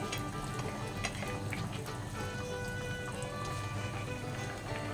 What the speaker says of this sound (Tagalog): At pakuluin natin siya ng konti. Konting kulo pa.